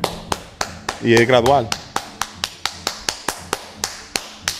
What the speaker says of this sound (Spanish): Camilo y yo ahorita vamos a empezar a aplaudir.